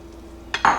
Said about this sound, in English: Go ahead and throw my shrimp on there.